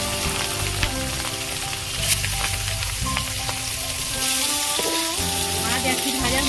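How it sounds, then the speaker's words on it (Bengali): Fish frying in hot salted oil for a fish kalia, a steady, loud crackling sizzle running throughout with faint bursts of bubbling and occasional spatter. "তেল গরম হয়ে গেছে, মাছগুলো ভেজে নেব।"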